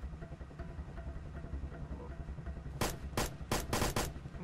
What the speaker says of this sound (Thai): มันยิงกราดมาเลยอ่ะ